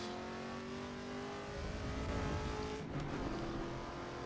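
A race car engine in Assetto Corsa EVO holds a steady, tonal drone, then swells as it revs higher midway, with a brief tire squeal near the end; no talking.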